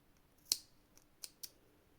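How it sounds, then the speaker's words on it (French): Scissors snip crochet yarn flush, one crisp cut followed by two lighter clicks of the blades, close and isolated in a quiet room. "vous pouvez venir couper votre fil à ras"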